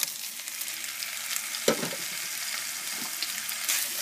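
Onion and sausages fry in oil in a deep pan, giving a steady close sizzle and crackle throughout, with one sharp clatter of a utensil or stir near the middle and no voices.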